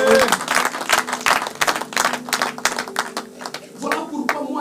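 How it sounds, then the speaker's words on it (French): A church congregation claps loudly in sharp, distinct bursts, rhythmic at first then looser, with a voice speaking over the clapping near the end. "On donne une belle acclamation à notre Dieu."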